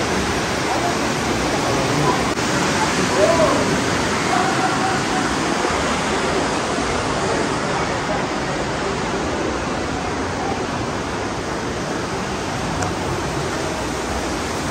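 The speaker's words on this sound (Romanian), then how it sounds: "Bă, dar ce viteză are apa aici." Fast-flowing mountain river water rushes loud and near along a path leading to a cave, a dense, unbroken roar of churning current lasting throughout, with a voice briefly audible over it.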